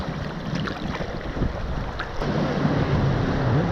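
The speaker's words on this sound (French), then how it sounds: "La vague s'en va, elle revient" Warm sea waves off Basse-Terre, Guadeloupe, wash in and out close by, a steady rushing surf churn mixed with wind buffeting the microphone.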